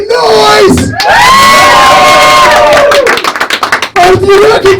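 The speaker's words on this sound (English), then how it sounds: "if you reckon Johnny Mitchell, State 1, make some fucking noise" A crowd at a fight event cheers, whoops and claps loudly for several seconds, the roar swelling and then breaking into scattered clapping before rising again.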